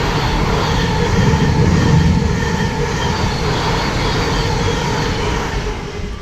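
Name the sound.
train on East Coast main line passing overhead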